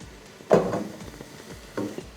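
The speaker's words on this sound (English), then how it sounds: "It's better, that's sizzling." Food going into a hot pot for one-pot pasta sizzles in two short bursts, a louder one followed by a softer one, close by with no talk.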